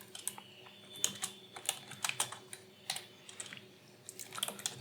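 Close, loud clatter of a computer keyboard being typed on in quick irregular bursts, sharp individual keystrokes with brief gaps and no voices.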